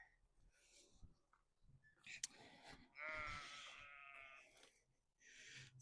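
Sheep bleat in a pen, with several loud, wavering calls standing out against quiet background clatter and scattered bumps.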